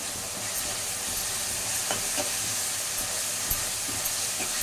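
Ginger garlic paste fries with onions in a pan, giving a steady close hiss and sizzle with occasional light stirring clicks and no talk.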